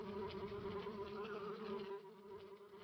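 Bees buzzing in a Paw Patrol mobile game farm scene, a steady synthetic insect drone with a faint pulsing texture, quiet and alone, dipping slightly near the end.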